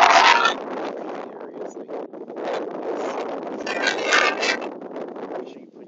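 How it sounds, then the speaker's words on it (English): Strong gusts of wind buffet the microphone outdoors in dry Los Angeles weather, loud, rough surging noise that rises and falls in bursts. "It's windy. It's crazy windy."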